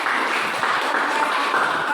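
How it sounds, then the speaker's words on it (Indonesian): Classroom applause, with a group of students clapping together in a brief, moderately loud burst of quick, even hand claps that carries on steadily without talk. "tepuk tangan"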